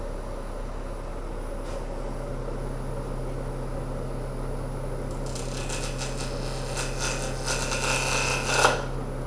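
A bowl turns on a wood lathe over a steady motor hum, and partway through a gritty scraping joins as the cutting tool bounces and chatters against the wood, then drops away abruptly.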